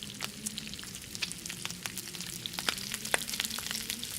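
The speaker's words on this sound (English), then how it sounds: "We'll cook one of the pieces of meat." Meat frying in The Long Dark video game, a steady sizzle with crackling pops spread across the clip, moderately loud and continuous with no talk.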